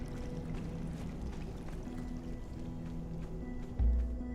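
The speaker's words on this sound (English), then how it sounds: "Now all the water levels will rise for you" Steady flowing, pouring water fills a rising pool in Conan Exiles, a continuous low rush with faint splashy detail throughout and a brief louder surge near the end, no voices.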